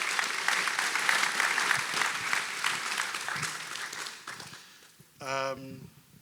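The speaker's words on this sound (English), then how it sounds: "please give her her own round of applause" An audience applauds at a talk about the documentary The U.S. and the Holocaust. Dense clapping runs loud for about four seconds, then thins and fades before a short tonal chime near the end.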